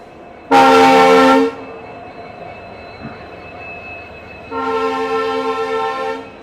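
A new Chikkamagaluru–Tirupati train sounds two loud, sustained horn blasts, the first short and piercing, the second longer after a pause, over a steady low rumble of the arriving locomotive.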